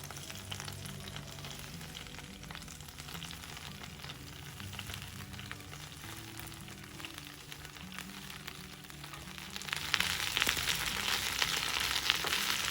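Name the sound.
frying mint leaves with green chillies in a pan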